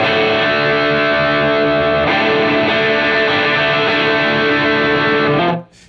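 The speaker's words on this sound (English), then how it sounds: "you can get a pretty good amount of distortion." A Duke of Tone guitar pedal set to distortion mode with the drive knob turned up gives a loud, dense, sustained distorted guitar tone. It rings steadily for over five seconds, then cuts off abruptly near the end.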